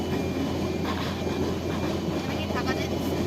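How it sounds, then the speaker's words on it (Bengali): A train with its engine rolls along in a continuous loud rumble and rattle, close and steady, with voices faintly audible beneath the running noise. "এটা হচ্ছে আমার ফেভারিট ট্রেন এবং ফেভারিট ট্রেনের ইঞ্জিন।"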